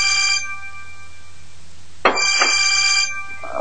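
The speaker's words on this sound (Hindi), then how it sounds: "किसका फोन आ रहा है इतनी सुबह सुबह?" A phone rings early in the morning in a home, a electronic ringtone with a short burst, a pause of over a second, then repeated ringing phrases, fairly close and alone.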